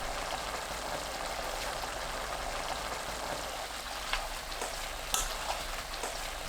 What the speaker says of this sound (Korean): 꽈리고추 넣고 센 불로 켭니다. 꽈리고추가 익을 때까지 볶아주세요.